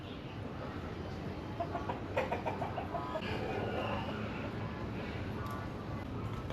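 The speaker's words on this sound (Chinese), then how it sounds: "哇，现在这里变鸡舍了。" Chickens cluck inside an old World War II Japanese military bunker in Taipei's Xinyi district that now serves as a chicken coop. A few short clucks rise briefly over a steady, fairly loud background hiss.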